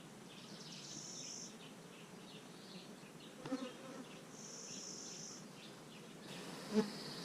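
Honey bees hum steadily through a hive inspection, one buzzing close around the face with passes rising and fading, plus a couple of brief knocks; no talking.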